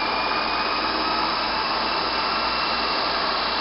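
A DC motor run at 150 volts spins at around 1100 rpm, a loud, steady whine and hiss that holds unchanged for nearly four seconds, with nothing else heard.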